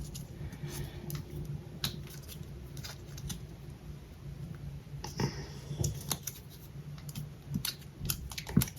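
Paper being folded over while making a lapbook, a series of close crisp creases and rustles with a few sharper taps, no talking.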